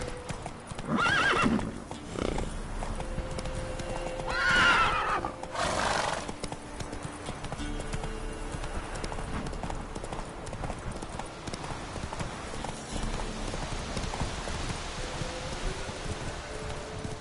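Roach, a horse in The Witcher 3, trots with clear rhythmic clip-clopping hooves. Two loud neighs or whinnies come early, and the hoofbeats continue steadily through the rest of the clip over faint rustling.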